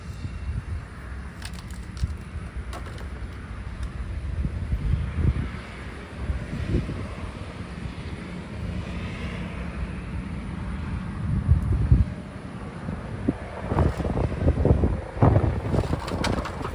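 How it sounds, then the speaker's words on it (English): Wind blows outdoors on a humid summer day, a steady broadband rush with microphone buffeting that swells and gusts louder toward the end, mixed with faint bird sounds and some handling noise. "The wind's blowing"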